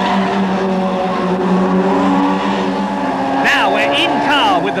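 Touring cars racing flat out in the 1989 British Touring Car Championship at Thruxton, engines roaring loud and continuous at high speed, with a commentator talking over the noise throughout.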